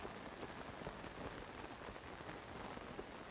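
Steady rain pours down in the video game The Legend of Zelda: Tears of the Kingdom, a dense, even hiss of drops spattering on surfaces with no break throughout.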